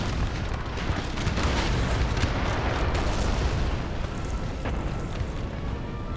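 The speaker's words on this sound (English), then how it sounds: "All of their units and their cannons are getting hit by my artillery." Artillery barrage in Napoleon: Total War, a steady wall of dense, rumbling cannon fire and explosions that runs continuously and loud throughout, with no pauses between blasts.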